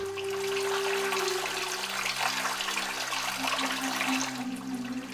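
Flowing river water in a remote, silent mountain setting among trees, a steady rushing wash over a low sustained drone, continuous throughout.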